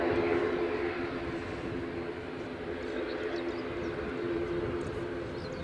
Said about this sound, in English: So the Jet 2 A321 Neo coming your way